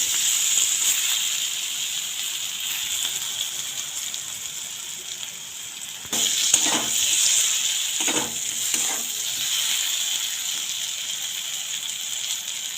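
Eggplant sizzling steadily in oil in a pan, a continuous bright crackle with a few scraping presses of a spatula partway through.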